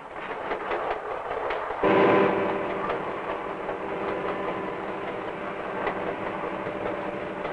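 A 1950s freight train runs along the tracks in a steady, continuous rumble with a faint clickety-clack, swelling slightly louder near the start and then holding even.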